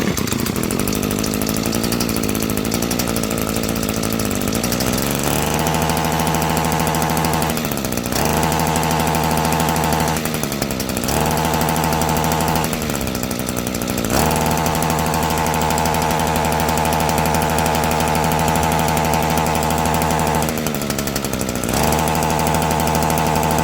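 Echo stick edger's small two-stroke engine runs loudly and unevenly for over twenty seconds, repeatedly bogging, sputtering and surging back up in rough bursts, close by with no talking.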